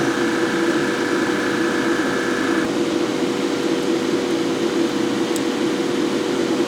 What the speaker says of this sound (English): Make sure everything's turned on. Compressor is on.